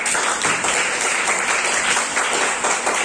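Applause in a classroom teaching session, a dense, continuous burst of clapping from a group of students, loud and close throughout.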